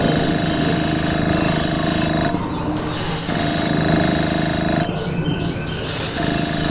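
Airbrush spraying clear coat at 20 psi, a steady continuous hiss that runs in several bursts with short breaks between passes, close and fairly loud.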